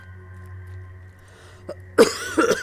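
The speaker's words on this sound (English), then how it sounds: "I apologize for the coughing." A person coughs a couple of times, sharp and close, after a quiet stretch with only a low background hum.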